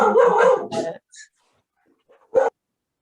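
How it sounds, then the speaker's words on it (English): A dog barks briefly and faintly in the background of a meeting's audio feed, with a short voice fragment before it and mostly quiet between. "That was the dog."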